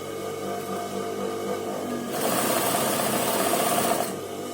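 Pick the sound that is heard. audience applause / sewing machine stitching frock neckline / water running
sewing machine stitching frock neckline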